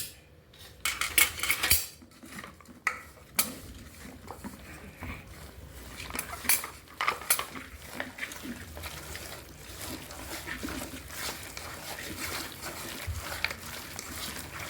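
A spoon mixes chicken pakoda batter with gram flour and lemon juice in a bowl, with clinks and scrapes against the bowl in uneven bursts, then a quieter, wetter stirring rustle.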